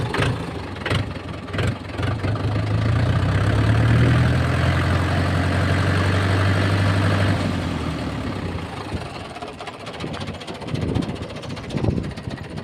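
A 2004 model tractor engine idles steadily, a low, rumbling, even drone lasting several seconds before it fades and gives way to some scattered knocks, with no speech.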